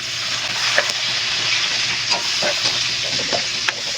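Onion frying in a pan, a loud continuous sizzle and hiss with a few scattered clicks and spatters, close and steady with no voices.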